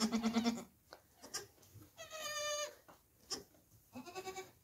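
Goats and young kids bleat in a barn at kidding time, several close, wavering cries overlapping one another with short gaps between calls.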